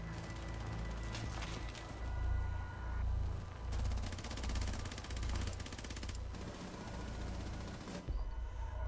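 Friendly fire from a teammate in a WW2 zombies shooter: sustained rapid automatic gunfire in long bursts with pulsing low booms, fairly faint and continuous.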